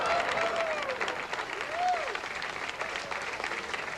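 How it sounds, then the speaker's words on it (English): Crowd at the 1985 PBA Denver Open bowling tournament applauds steadily after a strike, a dense wash of clapping that holds at an even level throughout, with faint voices and a brief whistle-like tone mixed in. "Crowd really likes that."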